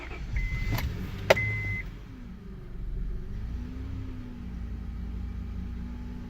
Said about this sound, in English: Let's just try to start it and see.